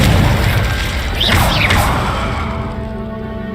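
A loud, sustained explosive blast from the Confringo spell in Hogwarts Legacy, a dense roaring boom with a swooshing flourish in the middle that gradually fades away.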